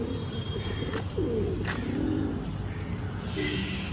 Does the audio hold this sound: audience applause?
no